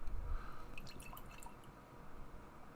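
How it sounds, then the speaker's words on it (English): Apricot and guava sour beer pours into a glass with soft, faint liquid trickling and dripping. "let's give her a pour and see how she looks."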